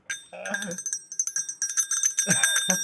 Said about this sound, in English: I've taken a quill and just gone ding ding ling ling ling.